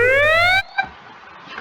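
A rising electronic alert tone from the Scratch sound library sweeps upward for just over half a second and then cuts off abruptly, followed by a few faint clicks.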